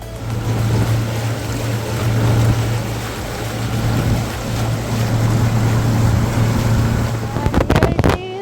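A boat motor drones steadily as the craft crosses Hirakud Lake, a loud continuous low hum with wind and water noise throughout, ending in a few brief bumps.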